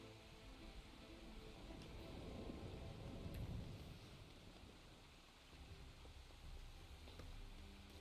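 Soft, steady rain falls in the Final Fantasy XIV world, a faint continuous hiss with a low rumbling swell in the middle of the stretch and no voices over it.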